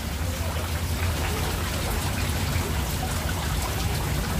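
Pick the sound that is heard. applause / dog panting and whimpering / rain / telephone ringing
rain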